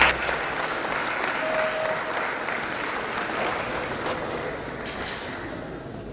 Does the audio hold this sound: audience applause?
yes